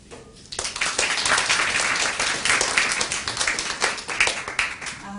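An audience at a public world-music lecture breaks into applause for the singer, a full, close burst of many hands clapping that starts abruptly and holds steady for several seconds.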